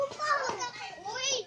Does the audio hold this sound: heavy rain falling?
no